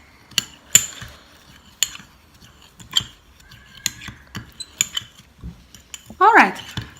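A spoon scrapes a homemade coconut oil face scrub from the sides of a bowl, giving sharp scattered clinks and scrapes in an irregular rhythm, with a brief louder squeak near the end and no voices.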